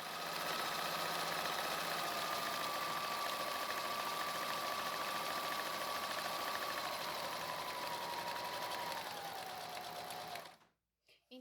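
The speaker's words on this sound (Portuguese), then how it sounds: "vou para a máquina fazer o trabalho de quilting" A domestic sewing machine quilts fabric for a clutch purse, its motor whirring steadily and loudly at close range for about ten seconds before it cuts off.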